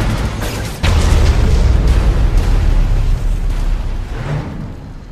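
A nuclear missile detonates in the mobile strategy game C&C Rivals, a loud close blast that swells into a long rumbling roar and slowly fades, with smaller bursts near the end.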